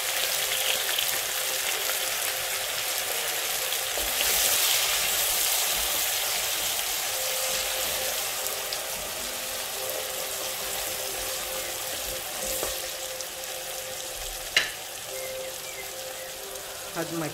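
Hot oil sizzles steadily in a pot at the start of cooking jollof rice, a dense, continuous crackling hiss heard up close, with a sharp tick standing out near the end.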